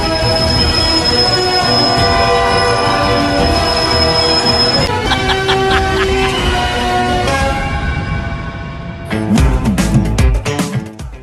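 A train passes loudly and close, with a sustained tonal horn and dense rolling rumble. Sharp rhythmic clanks and screeches come near the end.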